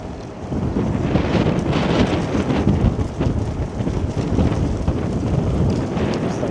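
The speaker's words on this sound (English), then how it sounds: "Wind kicking up again." Steady, gusty wind roars and buffets along a Toronto street on a walk from Midtown toward Bloor, a continuous close rushing with a low rumble and no pause.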